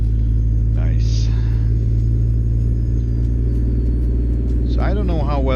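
The Big Red truck's loud engine, hauling a Rogers lowboy trailer, drones as a heavy, steady low rumble from inside the cab, with a voice talking over it.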